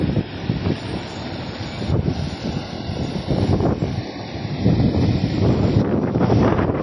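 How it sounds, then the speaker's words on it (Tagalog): Strong, gusty typhoon wind on a seashore roars and buffets the microphone continuously, with a rumbling low end that swells and eases. "Papansin nyo, malakas po ang hangin."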